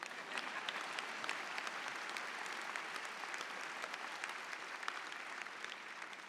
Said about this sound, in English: You could clap for yourselves on that one.